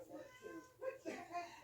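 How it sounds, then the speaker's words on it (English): A cat meows at a closed bathroom door in a home, a few faint, drawn-out meows rising and falling over about two seconds, heard at a distance with low background noise. "There's a cat meowing at the bathroom door"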